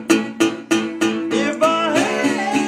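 Delta blues slide guitar: several struck chords, then sliding, wavering notes, close and fairly loud with no singing yet.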